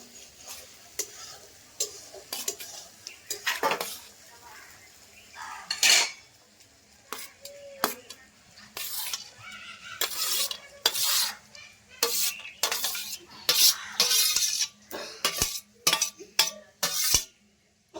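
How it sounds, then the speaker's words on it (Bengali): A spoon stirs and mixes cooked rice with fried vegetables in a pan. Irregular metallic scrapes and clinks come in quick bursts over a faint sizzle, close up, with no speech. "ভালো করে আমি ভাতটা মাখিয়ে নিচ্ছি সবজি দিয়ে"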